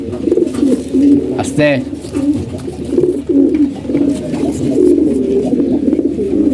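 Pet pigeons coo in soft repeated throaty rolls close by, with a brief rising warble partway through, while a person speaks quietly over them.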